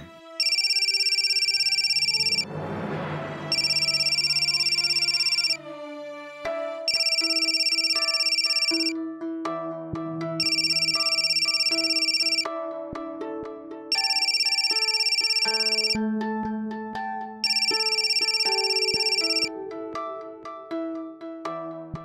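A phone ringtone plays in a Marathi TV drama, a repeating electronic melody of bright bursts with short pauses between them, steady and fairly loud for over twenty seconds, with no talk.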